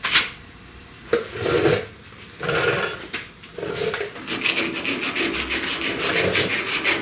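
Body filler on a truck cab corner is sanded by hand with 80-grit paper to feather the edges, giving rasping strokes in short bursts at first and then a steady run of quick rhythmic back-and-forth scrubbing, close and fairly loud.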